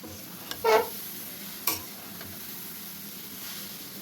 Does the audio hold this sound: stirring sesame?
yes